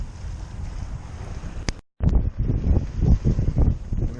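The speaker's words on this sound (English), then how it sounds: "Wind's picking up, it might help us make it." Wind gusting over the microphone aboard a sailboat beating out of Annapolis on choppy water, a steady low roar with a brief dropout near the middle and then stronger buffeting.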